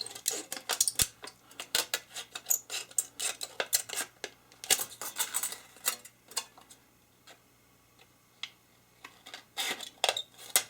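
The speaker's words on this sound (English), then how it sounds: "Just with a pair of scissors." Sharp, crisp snips and clicks of scissors cutting through a thin metal can, coming in quick irregular bursts with short pauses, close up and without speech.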